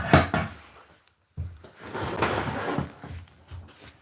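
A gas tank is taken off a motorized bicycle, making a few close metallic clunks and knocks followed by a brief pause and then scraping and rattling handling noises.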